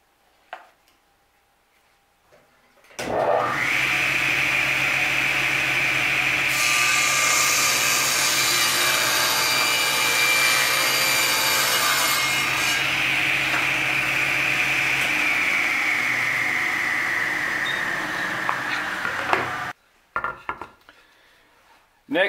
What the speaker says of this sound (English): I'm going to rip a strip 5 7/8 of an inch wide at the table saw.